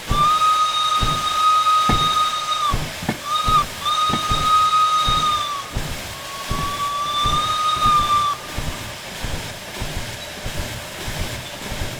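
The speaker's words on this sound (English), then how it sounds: "here's what we got as a whistle." Steam whistle of an S060 shunting locomotive in Derail Valley, blowing several long and short loud blasts over a steady rhythmic chuffing and hiss of the running engine.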